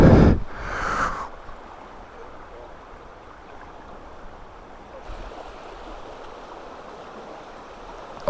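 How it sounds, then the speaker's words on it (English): Fast-flowing river water rushes as a steady broadband roar, with a burst of wind and handling noise at the start before the flow settles into a continuous wash. "Look how fast the river's going."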